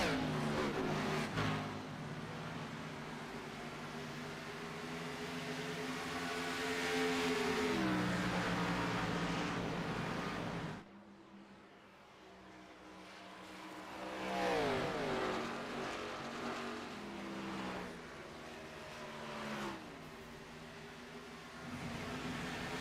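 Xfinity race cars in iRacing at Darlington roar past in waves, engine notes climbing and sweeping down as each pack goes by, with a brief lull before the next group rushes through.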